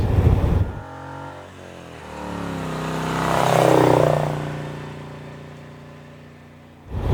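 The engine of a Pembleton T24 steampunk car drones close by at about 40 mph, swelling to a louder throaty rise in the middle before settling back, with a burst of wind noise at the start and end.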